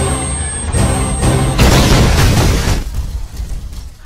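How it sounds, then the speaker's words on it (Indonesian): A heavy, rumbling bomb explosion destroying a house bursts loudly, with a deep boom and crashing debris that slowly fade away. "bom pun meledak menghancurkan rumah"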